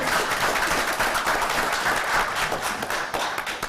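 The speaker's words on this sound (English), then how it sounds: "Give her a round of applause" Applause from the audience at a city council meeting in Bastrop, Louisiana, a steady dense patter of many hands clapping for several seconds at moderate volume, with no one speaking over it.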